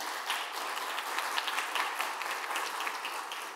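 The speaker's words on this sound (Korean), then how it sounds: "여러분 박수로 축하해 주시기 바랍니다" A church congregation applauds during a Sunday worship service, a steady, soft, distant-sounding patter of many hands that holds evenly for a few seconds with no voices over it.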